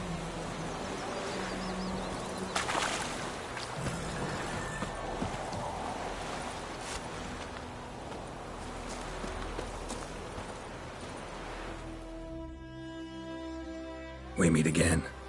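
Horse hooves clip-clop at a gallop in The Witcher 3: Wild Hunt, a steady rhythmic patter under game ambience and music, ending as a voice speaks.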